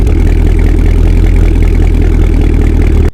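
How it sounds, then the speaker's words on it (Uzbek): Cadillac with a supercharged 6.2-litre V8 making 685 horsepower, running with a loud, close, steady rumble and a slight throbbing pulse, heard alone with no talk. "Va V-obrazli 8 silindr 602 superchargerning motori bo'ladi."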